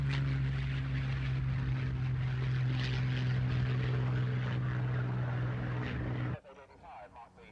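A Supermarine Spitfire's propeller engine drones loudly and steadily with a deep, constant tone for about six seconds, then cuts off abruptly, leaving faint background noise.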